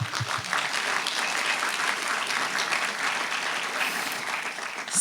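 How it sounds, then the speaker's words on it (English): A crowd at a scholarship program in Southern California applauds parents and families with sustained, even clapping that holds steady and fairly loud for several seconds, uninterrupted by speech. "I would like to give all of you a round of applause."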